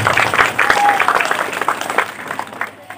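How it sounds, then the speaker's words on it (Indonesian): Clapping from an audience at a school promotion event, dense and fairly loud at first and thinning over a few seconds, with some voices underneath. "Tepuk tangan untuk kita."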